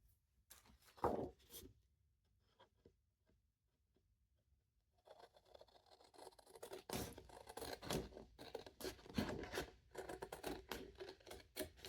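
Scissors cut paper for a handmade card in quiet, intermittent snips and scrapes: a few early cuts, a pause, then a busier run of cutting and rustling close by.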